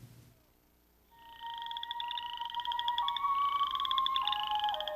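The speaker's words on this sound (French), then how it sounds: "Les rainettes faux-grillons vivent au Canada, du Québec à la Colombie-Britannique et dans le Nord-Ouest." Western chorus frogs calling in a chorus, rapid trilling pulses rising in overlapping, repeated bursts that build and grow steadily louder after a brief quiet start, with no voices present.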